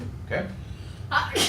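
A single sharp sneeze bursts out in a classroom during a calculus lesson, with a brief spoken word just before it.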